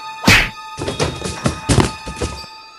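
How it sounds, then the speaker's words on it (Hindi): A kick impact in a 3D horror comedy cartoon: one sharp, loud hit followed by a string of dull thuds and thumps over a couple of seconds, with no voices. "आलोक बक को जोरदार किक लगा देता है जिससे कि बक जमीन पे गिर जाता है।"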